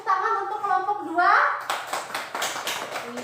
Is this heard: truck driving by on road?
no